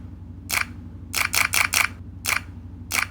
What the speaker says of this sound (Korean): 그리고 카메라의 셔터음은